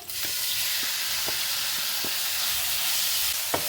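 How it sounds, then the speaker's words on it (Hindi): Boneless chicken pieces fry in a pan with a steady, loud sizzle, with a few soft clicks and taps scattered through it and no talking. "5 मिनट के लिए दोनों चीज़ों को हम अच्छे से फ्राई करेंगे।"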